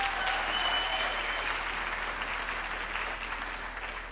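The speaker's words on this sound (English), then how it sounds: "Can we please give them a big round of applause" A graduation ceremony crowd applauds a choir with a steady, full round of clapping that stays even and gradually eases slightly toward the end.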